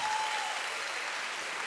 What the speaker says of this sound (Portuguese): uma salva de palmas para todas elas